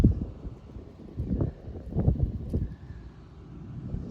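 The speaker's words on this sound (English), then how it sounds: "It's a little windy today" Gusty outdoor wind blows across an open vegetable garden during tomato transplanting, buffeting in uneven surges and rumbling low against the microphone, with no voices.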